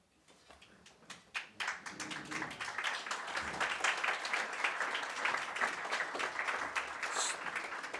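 Applause at a gala celebrating the 75th anniversary of Bosnia and Herzegovina statehood, starting with a few scattered claps and building within two seconds into full, sustained clapping from the hall.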